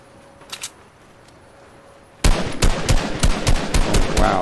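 Rapid automatic gunfire in Fortnite aimed at sharks, opening after a quiet stretch with a couple of faint distant shots, then a loud, dense burst of repeated shots lasting to the end.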